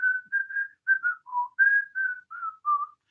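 A lone whistler carries a melody, a string of clear, close whistled phrases with short gaps between them.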